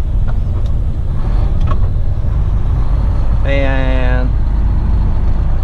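Dense road traffic surrounds a heavy-haul truck carrying an oversized cooling tower load, with a steady low engine and tyre rumble throughout, a brief tonal horn or whine partway through, and someone talking over it.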